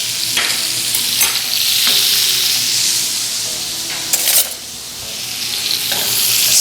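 Steak sears in a pan with butter over a fire, giving a loud, steady sizzle with crackling spatter and a few brief scrapes and stirring bursts throughout, with no talking.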